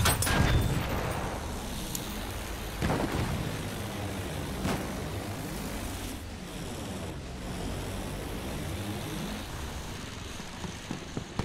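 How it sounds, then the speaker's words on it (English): Enemy artillery shelling in Battlefield 1: a few dull distant booms rolling over a constant roar of battlefield noise and wind, with low rumbling swells between impacts and no speech. "Enemy artillery."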